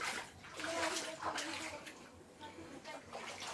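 Floodwater inside a shop at Black Bush Polder, Guyana, sloshes and splashes softly in uneven bursts, faint and close, with voices talking over it.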